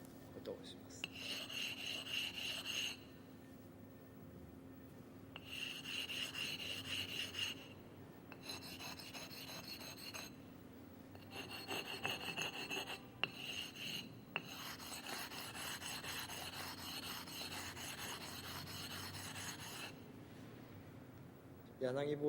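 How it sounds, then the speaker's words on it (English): Sharpening stone being flattened before sharpening a Yanagi knife: repeated gritty rasping strokes in bursts of several seconds, close and fairly quiet, with short pauses between passes. "Before you sharpen the Yanagi knife, you'll need to fix your sharpening stone."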